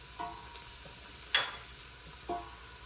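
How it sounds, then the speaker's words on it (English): Onions sauté quietly in a pan, a faint steady sizzle broken by three soft stirring knocks and scrapes, one slightly louder with a brief metallic ring. "Those onions sauteing"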